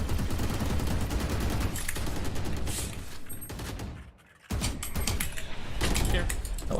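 Bursts of rapid gunfire fired through a wall in a competitive first-person shooter round, loud and dense, with a brief dip in volume near the middle before the shooting resumes, and game sound effects mixed in.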